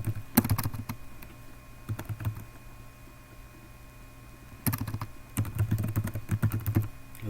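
A computer keyboard rattles with two bursts of rapid key presses, close and crisp, separated by a quiet pause of a couple of seconds, as a password is entered during a SQL Server 2014 cluster installation.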